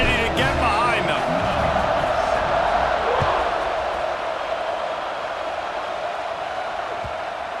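A stadium crowd in the EA Sports College Football 26 video game roars in a dense, continuous wash of cheering that gradually eases a little in loudness.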